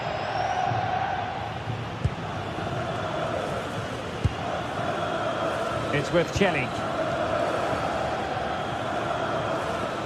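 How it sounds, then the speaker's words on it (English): Stadium crowd in a video game football match: a dense, steady roar and murmur of supporters that fills the background beneath a commentator's voice, with a few faint sharp knocks. "Well, just listen to this crowd."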